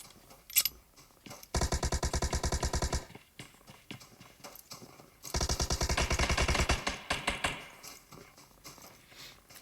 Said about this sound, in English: And that is Criminal taking down Belly by what sounds to be an M16